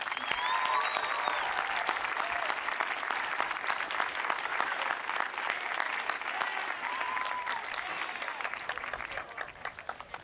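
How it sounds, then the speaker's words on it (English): Sustained applause from a large audience at a high school graduation ceremony for the Class of 2022, a dense steady clapping wash lasting many seconds and tapering slightly at the end. "give them a well-deserved round of applause."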